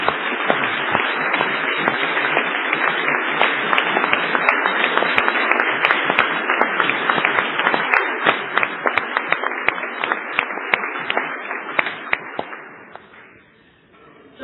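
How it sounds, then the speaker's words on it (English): Audience at a bank's annual general meeting standing and applauding, dense continuous clapping from many hands for about twelve seconds before tapering off and fading out. "give Chris a round of applause"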